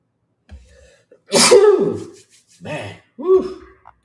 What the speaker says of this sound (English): I need a sneeze.